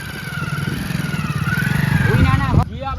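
A motorcycle engine runs close by with a pulsing, throbbing note that builds steadily, then cuts off abruptly near the end while people talk over it.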